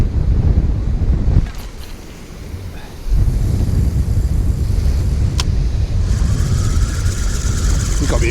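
Strong wind buffets the microphone at a winter fishing spot, a loud continuous roar with gusty surges, briefly easing for a moment before blasting back at full strength.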